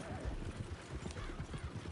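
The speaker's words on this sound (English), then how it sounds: "Horses won't go this fast for long." Horses gallop in the Red Dead Redemption 2 video game, with a fast, rhythmic clip-clop of hooves and a brief whinny, fairly faint in the mix.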